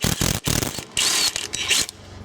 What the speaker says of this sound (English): We should easily be able to get that with the impact gun.